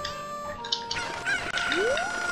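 Cucco chickens cluck in the Zelda Ocarina of Time video game, a few short squawks rising over steady game music and effects.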